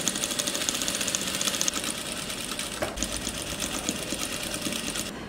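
A sewing machine runs steadily, joining patchwork Dresden plate pieces into a circle, with a fast, even mechanical chatter close by and a brief pause near the middle.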